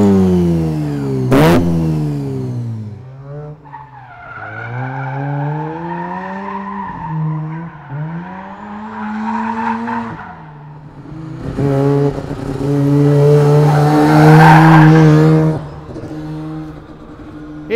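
A Mazda 1000 drift ute revs hard around a racetrack, engine rising and falling through gear changes, with tire squeal and skidding building into a loud, sustained screech near the end.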